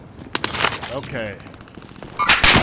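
Rapid video game gunfire in bursts during a hostile firefight, with a loud volley at the start and another at the end.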